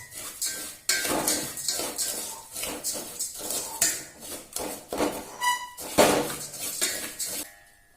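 Payasa with sugar stirred in a metal pot, a spoon scraping and clinking against the sides in a steady, uneven series of close, bright knocks with no talking.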